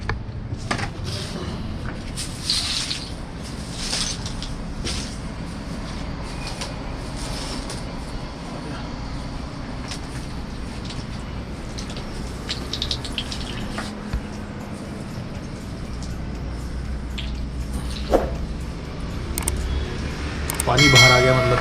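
Water is poured into an AC drain pipe during an LG air conditioner installation to check its flow, giving a continuous splashing trickle with scattered knocks and clatter, and someone talking now and then.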